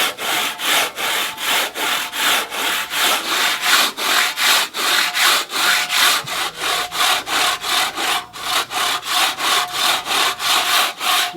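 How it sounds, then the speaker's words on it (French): A large-toothed saw cuts through soft stone in a steady, rapid back-and-forth rhythm of about three rasping strokes per second, close and loud, with no talk. "pour les pierres tendres, on utilise des scies à grosse denture qui permettent de couper les pierres tendres jusqu'à demi-ferme"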